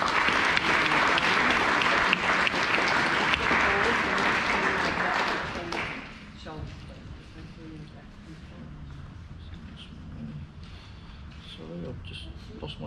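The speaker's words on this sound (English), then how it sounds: "can we give these students a round of applause" Applause for graduating students at the Tweed River High School Year 12 graduation ceremony in 2020, a full round of clapping that swells for about six seconds and then dies away into quieter room sound with a voice speaking.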